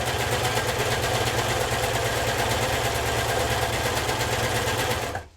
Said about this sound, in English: we're just going to serge the other side